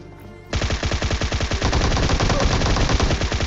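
Sustained automatic gunfire rattles in the PUBG Mobile battle royale game, a rapid steady stream of loud shots that begins abruptly and continues without pause.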